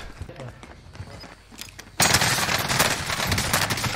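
Automatic gunfire from an Amax rifle in Call of Duty Warzone erupts halfway through, loud, dense and continuous after quieter game sounds, with players talking over it.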